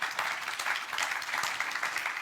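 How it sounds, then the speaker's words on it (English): A conference audience gives its panelists a steady round of applause, dense and even, moderately loud, with no talk over it. "A round of applause for our panelists,"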